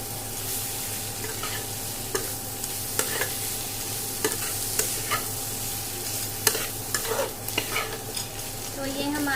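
Homemade sabzi masala with chopped green coriander being stirred in a pan: a steady sizzle under repeated scraping strokes of a spoon, close and continuous, with no voices.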